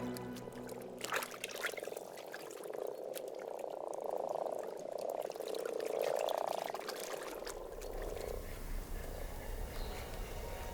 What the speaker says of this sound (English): Frogs awaken from hibernation with only one thing on their mind.